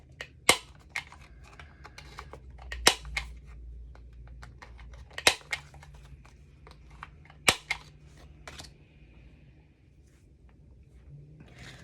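Corners of paper artist trading cards are rounded with a corner punch, giving sharp isolated clicks, about five loud snaps with softer ones between, at irregular intervals over a quiet room hum.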